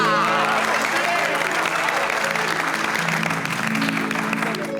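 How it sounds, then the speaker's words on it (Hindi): An audience claps loudly for Babita ji in a Taarak Mehta Ka Ooltah Chashmah scene, the applause dense at first and tapering slightly, with voices mixed in beneath. "इसलिए एक बार बबीता जी के लिए जोरदार तालियां।"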